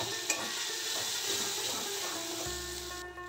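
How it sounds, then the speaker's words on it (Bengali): Pea paste with asafoetida being stirred in a pan over low heat, a steady soft sizzle with scraping stir sounds throughout, fairly close and continuous. "হিং দিয়ে মটরের পেস্টটা দিয়ে দেব প্রথমে। লো হিটে এটা নেড়ে নিতে হবে।"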